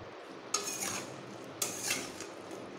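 A utensil stirs small river fish with salt in a pan, making two distinct bursts of scraping and clinking separated by a short pause, close and fairly quiet.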